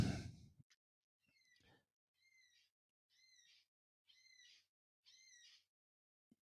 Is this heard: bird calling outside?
yes